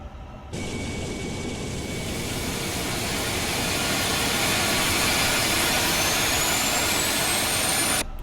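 An Airbus A350 jet engine spools up in Microsoft Flight Simulator 2020, a loud sudden roar that holds steady while a thin rising whine climbs slowly over several seconds, then cuts back sharply at the end, with no voices.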